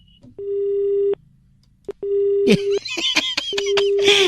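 Repeated telephone busy-signal beeps after a prank call is hung up pulse on and off at a steady rhythm, then continue beneath a burst of voices and laughter.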